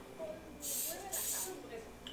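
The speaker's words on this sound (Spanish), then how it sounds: "Le voy a poner yo un poquito de spray" Cooking spray from an aerosol can misted onto a baking tray for croissant dough, two close hissing bursts of roughly half a second each, with a speaking voice in the background.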